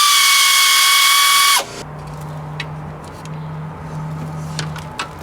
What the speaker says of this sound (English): I'm going to hold the nut on the other side while I loosen this up with my air ratchet.